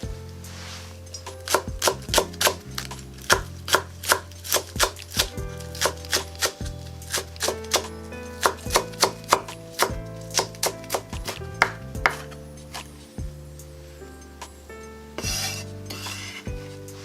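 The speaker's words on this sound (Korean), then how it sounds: "달래는 이렇게 듬성듬성 잘라주세요" A knife chops wild chives (dalrae) in sharp, crisp strokes, landing in quick irregular runs of cuts close to the listener, with no voices.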